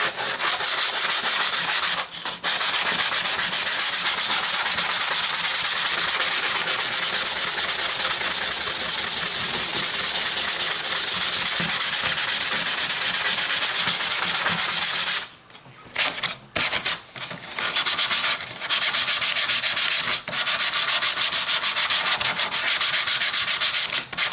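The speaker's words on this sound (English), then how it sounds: "Anyway, sand it down a little bit." Sanding a bridge for an HO scale model railroad layout, a loud, continuous close-up rasping rub that runs steadily, then breaks into a few short pauses and strokes before resuming.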